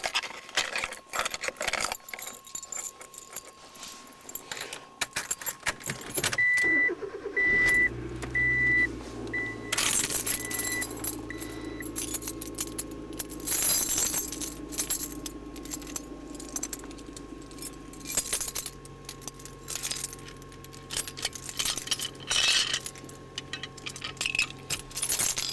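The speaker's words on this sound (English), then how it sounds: "My keys." Car keys jangle and clink for a moment before a car's engine starts and settles into a steady low idle. Loud rattles and handling noises come and go over it, and a warning chime beeps briefly.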